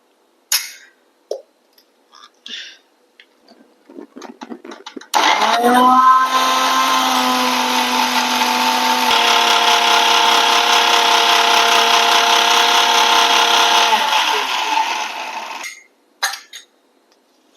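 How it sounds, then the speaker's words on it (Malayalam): A kitchen mixer grinder whirs loud and steady for about ten seconds, blending mint chutney with curd, preceded by a few scattered clicks and clatters and cut off by brief knocks as it stops. "നമുക്കിതിലേക്ക് കുറച്ച് തൈര് ചേർത്തിട്ട് ഒന്നും കൂടി അടിച്ചെടുക്കുക"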